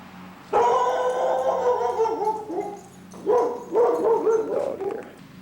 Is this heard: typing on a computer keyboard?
no